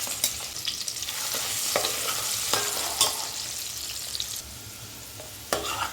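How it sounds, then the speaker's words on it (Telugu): Potato pieces frying in a little oil with turmeric, a close, steady hiss dotted with sharp spatula scrapes and clinks against the pan, quieter near the end, with nobody talking. "చూసారు కదా, ఈ ముక్కలు ఎలా వేగినాయండి"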